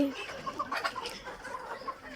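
Several Egyptian Fayoumi chickens cluck softly and repeatedly nearby, a busy overlapping chatter of short calls with no talking.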